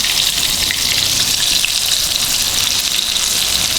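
Battered KFC-style chicken fingers fry in hot oil, giving a loud, steady, close crackling hiss with fine bubbling pops and no speech.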